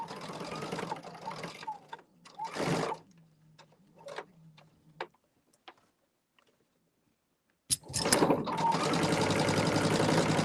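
A sewing machine stitches a quilt block seam in two loud bursts, one at the start and a longer steady run near the end, with quiet clicks and fabric handling between them.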